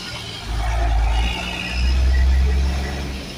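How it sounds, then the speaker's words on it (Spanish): Heavy dump trucks hauling tar roll past on a roadside, a deep low engine rumble that swells twice as they go by fairly close, with no clear talk. "ha estado pasando mucho carro de, aquí decimos carro de volteo"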